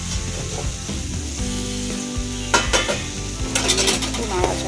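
Fried oats are stirred into a spice masala sizzling in oil in a pan. A steady loud sizzle runs throughout, with scraping strokes of a utensil against the pan and a few metallic clinks, and no talking.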